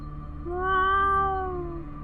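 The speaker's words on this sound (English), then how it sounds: "it sounds like a cat or a dragon" A single drawn-out cat meow, used as a sound effect in a tabletop role-playing game, swells and fades over about a second and a half, clear and fairly close with no talk.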